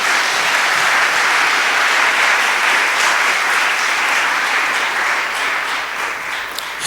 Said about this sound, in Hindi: ओ यीशु मसीह के लिए तालियां बजाएं और धन्यवाद।